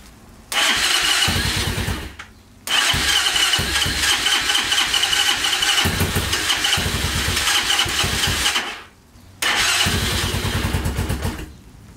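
A motorcycle that arrived shipped in a box fires up for its first start, sitting in neutral. The engine catches briefly, cuts out, then restarts and runs roughly for several seconds, dies again and catches once more, loud and close with no talking.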